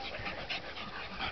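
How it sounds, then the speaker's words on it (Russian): A bulldog panting close up in quick, steady breathy puffs, with soft sniffing noises throughout a short stretch. "бульдоги шустрые, они собачки"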